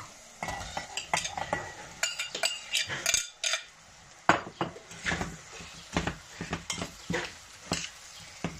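Potatoes tossed into a frying pan for Turkish village-style sıkma and stirred, with repeated scraping, clinking utensil strikes and light sizzling in irregular bursts, close and clear.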